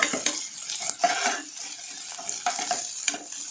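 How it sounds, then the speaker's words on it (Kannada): Onion, curry leaves and dry red chillies frying in hot oil with popped mustard seeds, a steady sizzle broken by the clatter of a spoon stirring against the pan. "ಈರುಳ್ಳಿ ಕರಿಬೇವು ಒಣಮೆಣಸಿಕಾಯಿ ಹಾಕೋತಾ ಇದ್ದೀನಿ ಹುರ್ಕೊಳ್ಬೇಕು ಚೆನ್ನಾಗಿ"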